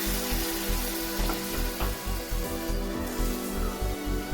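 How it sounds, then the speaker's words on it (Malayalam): Water poured into hot masala in a pan while cooking egg curry hisses into a steady, loud sizzle that keeps bubbling and crackling throughout. "കുറച്ച് വെള്ളം ഒഴിച്ച് കൊടുക്കാം"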